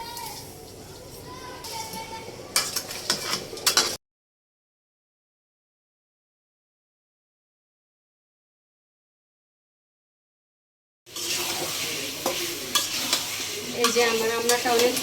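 Hog plum (amra) pickle being stirred in a pan with salt and sugar, soft scraping and gentle sizzling in two stretches split by a long silent gap.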